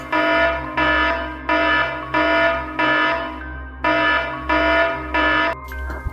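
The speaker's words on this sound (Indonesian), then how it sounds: "Alarm CCTV telah berbunyi." A CCTV alarm in a video game rings in repeated loud electronic pulses, each burst about half a second long with short gaps, against a steady low hum.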